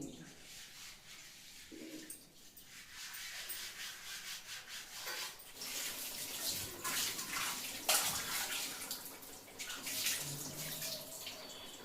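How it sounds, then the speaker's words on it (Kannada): Running water and scrubbing, rubbing sounds of dishes being washed under a tap, steady and close, with faint voices in the background. "ಪಾತ್ರೆ ತೊಳೆದಿದ್ದಾಯ್ತು."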